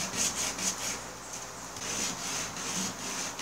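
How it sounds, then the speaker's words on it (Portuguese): A broken artificial fishing lure is rubbed back and forth on sandpaper on the floor to round it off, giving a steady, rhythmic scratchy rasping in close, repeated strokes. "Vou dar uma boleada aqui no chão, ó, aqui na lixa. Agora mais é trabalho de lixa mesmo."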